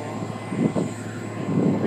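A steady, loud drone of an airplane engine fills the whole short stretch, a continuous rumble with slight pulsing and no break.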